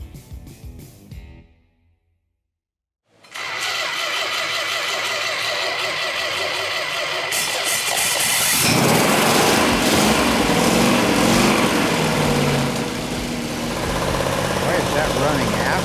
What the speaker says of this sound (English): Once you have the engine up and running and you listen for things like the lifters, make sure they got adjusted right.